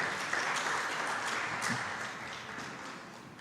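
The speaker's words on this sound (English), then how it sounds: "Round of applause for our panelists." Steady applause from a conference audience welcoming panelists to the stage, a dense wash of clapping that holds throughout and eases off slightly toward the end.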